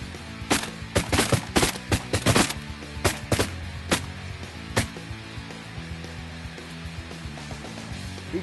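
Shotguns fire at a flock of ducks during a hunt in Canada, with a rapid burst of loud, sharp blasts in the first few seconds, then scattered single shots fading into quieter outdoor background.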